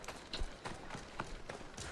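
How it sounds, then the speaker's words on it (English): A horse's hooves clip-clopping in the video game Assassin's Creed Odyssey, a quick run of faint rhythmic hoof thuds at a steady trot under low background noise. "That's a nice horse, Socrates."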